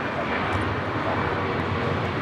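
An ITA Airways airliner arrives on runway 24 right at LAX, its engines giving a steady, loud, broadband roar that holds at an even level throughout with no talk over it.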